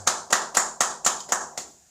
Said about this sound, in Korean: 우리 예배를 받으신 하나님 앞에 영광의 박수 올리겠습니다